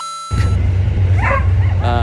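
At a flea market, dogs on the verge of fighting let out several sharp barks and yips close by, with engine hum and crowd noise behind them.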